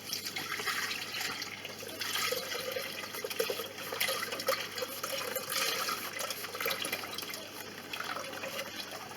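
A litre of milk poured into the bowl of a kitchen robot for homemade yogurt, a steady, close, continuous gurgling pour lasting several seconds with small surges, no voices.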